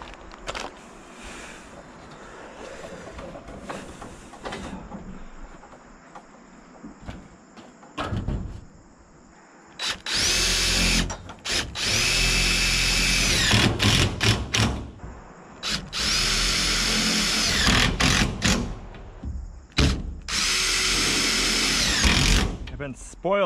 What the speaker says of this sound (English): Let's get some screws in the edge of the tin.